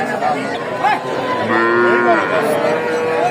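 Several cattle moo over a busy, noisy crowd at Talgachhi livestock market in Sirajganj, Bangladesh, with low drawn-out calls overlapping amid steady background chatter.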